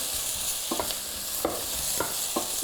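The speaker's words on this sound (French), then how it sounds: "je vois que mon huile est presque prête. Donc, je vais juste mélanger des oignons" Chopped onions stirred into hot oil in a pan hiss with a steady sizzle, broken by several sharp scrapes from the spoon against the pan. The sound is close, and no one speaks.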